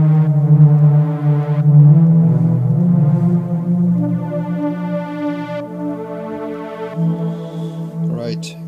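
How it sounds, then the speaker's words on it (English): A MicroFreak synthesizer plays sustained tonal notes with rich harmonics, shifting pitch in steps over several seconds, loud and close, with a short glitchy burst near the end. "this thing here, synthesizer, Micro Freak, sounds like this."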